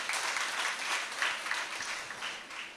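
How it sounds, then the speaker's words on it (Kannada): An audience at a Halasu Mela jackfruit fair event gives a brief round of dense, even applause, heard from a moderate distance with no voice over it. "ಒಂಜಿ ಗಟ್ಟಿ ಆಯ್ನ ಚಪ್ಪಾಳೆ ಪಡ್"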